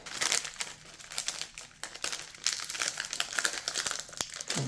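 Crinkling, scraping plastic sounds as a knife cuts open a 2022 US military MRE pouch, with sharp close crackles and rustles in irregular bursts, fairly quiet.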